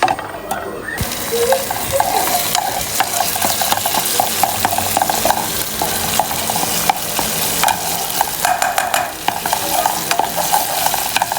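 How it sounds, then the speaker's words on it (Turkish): Steady sizzling of tomato paste frying in a little oil, with stirring scrapes and occasional clinks of a utensil against the pan throughout. "salçanın kokusu çıkana kadar az yağda kavuruyorum"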